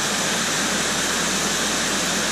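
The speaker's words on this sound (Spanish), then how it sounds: "Una cascada" A roadside waterfall in Spain's Valle de La Vera roars as a dense, constant rush of falling water, loud and close, with a low engine hum briefly underneath.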